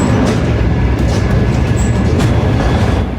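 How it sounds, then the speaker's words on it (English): Train at a station in Milan, a loud continuous rumble of rolling wheels and carriage noise that holds steady throughout, close by with no talk. "I'm about to board the train now to Bologna."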